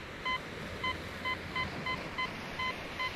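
A Fisher CZ21 metal detector sounds off over a US clad dime, giving a series of short, evenly spaced electronic beeps at moderate volume above a faint background hiss.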